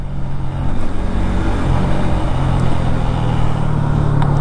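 A Bajaj Pulsar NS 200 motorcycle engine and exhaust rumble loud and steady while it is being ridden, with broadband road and wind noise and no talking.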